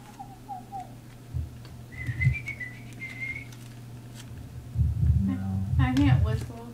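A few short whistled notes, thin and wavering, come and go over background voices and low hum, followed by louder rustling and talk.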